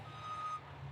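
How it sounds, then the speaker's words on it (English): A truck backing into a sealed loading dock at a refrigerated pepperoni plant's cold storage warehouse sends out a single steady reversing beep over a low idling engine rumble, with no talk. "Drivers back their trucks into the sealed docks"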